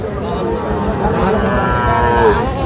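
A Sahiwal bull calf of about five to six months moos loudly and steadily at the busy Ambari cattle market, its drawn-out call filling the clip over the low bustle and chatter of the crowd.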